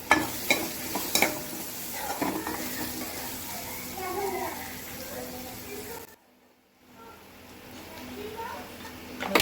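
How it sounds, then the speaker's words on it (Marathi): Onion cooks in a pan until soft, with steady stirring scrapes over a soft sizzle that briefly drops out near the end before resuming. "कांदा मऊ होईपर्यंत शिजवून घेते."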